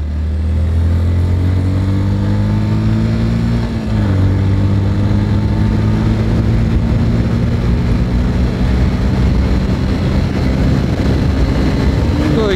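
A Yamaha FZ-S V3 BS6 motorcycle pulls hard in third gear from around 35 km/h, engine note climbing steadily after a brief dip near four seconds, loud and continuous with wind rush, a rider talking over it.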